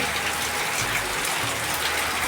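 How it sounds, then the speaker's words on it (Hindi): Heavy rain pouring down in a village, a dense, constant hiss of drops hitting surfaces close by, loud and unbroken. "पूरा उधर दिख नहीं रहा है, बहुत बारिश हो रही है।"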